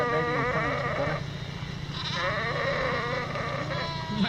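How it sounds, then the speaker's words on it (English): A flock of sheep crossing a road in Utah, with many overlapping wavering bleats close by, some loud and some farther off, over a steady low background. "It's the sound of sheep."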